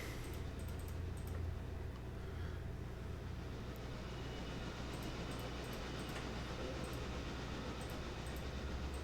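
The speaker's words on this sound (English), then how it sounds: "I am not sure this train is going to be able to push all the cars up to the number 1 mine." A train in the game Railroader pushing a string of cars uphill toward the number 1 mine, a continuous low rumble of engine and rolling wagons with faint metallic clicks, steady and unbroken throughout.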